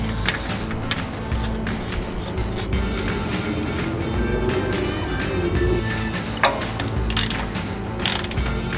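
A ratchet tightens an oil drain plug in a series of rapid metallic clicks in bursts, close and fairly loud, with a few mechanical clanks in between.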